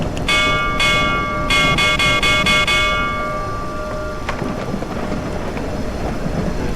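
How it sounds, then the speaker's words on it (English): A ship's bell in a video game rings with a run of bright, clanging strikes, two separate hits and then a quick burst of five, each tone ringing on and fading over a rumbling, stormy ambient background. "Oh, you can ring the bell."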